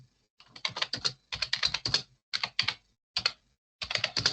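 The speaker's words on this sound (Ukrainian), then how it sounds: "Далі пишемо промпт. Пишу те саме." Bursts of quick keystrokes on a computer keyboard as a prompt is typed for an AI tool, close and crisp, arriving in five clusters separated by short silences.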